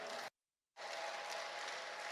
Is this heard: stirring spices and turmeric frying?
no